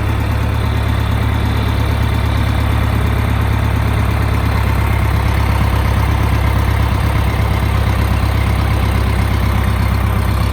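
A John Deere 2510 diesel tractor engine chugs loudly and steadily up close, a deep rumbling idle with a rhythmic knock throughout, no talking.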